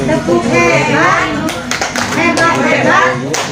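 Rhythmic patterned clapping from a school group at SDN 222 Pasir Koto, mixed with children's and adults' voices, a steady cheering clap close by and fairly loud.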